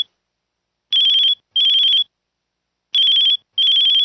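A phone ringtone plays in two pairs of short electronic trilling bursts, clear and close, with silent gaps between them.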